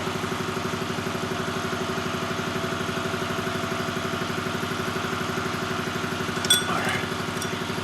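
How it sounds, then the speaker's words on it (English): An air compressor runs steadily and loudly in a workshop setting, a continuous mechanical drone with rapid rhythmic pulsing, with a brief clatter near the end. "I'm gonna have to shut the camera off only because of how much noise the compressor's making"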